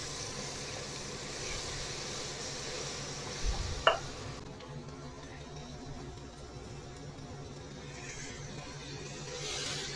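Mutton sautés in a pan, giving a soft, steady sizzle with a brief clatter near the middle before settling into a quieter, low frying hiss.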